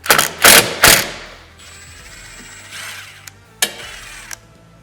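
Screws being backed out of a Polaris RZR door with a power driver, giving three loud close ratcheting bursts at the start, then quieter clicks and mechanical rattles with a short whir near the end.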